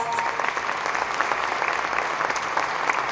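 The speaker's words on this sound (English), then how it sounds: "Let's give them a round of applause." Audience at the Buffalo Urban Forum gives a round of applause for the Regent and Board of Education members, steady dense clapping throughout at even loudness, moderately near, with no voices standing out.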